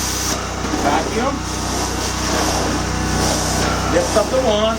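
A Prowler 13hp carpet extractor drones loudly and steadily as its vacuum pulls through the wand, a continuous whine with a person talking over it.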